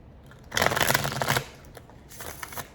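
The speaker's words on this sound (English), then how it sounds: "One more shuffle." Tarot cards are shuffled during a reading, a close, rustling burst of riffled cards followed by a shorter, quieter second pass after a brief pause.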